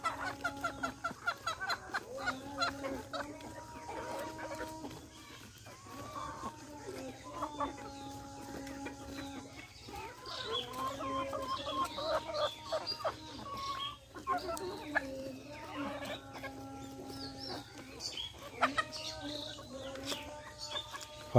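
A flock of farm and local desi chickens feeding and squabbling over food, giving off repeated clucks and rising squawks in irregular bursts, fairly close, with low talk and background hum under them.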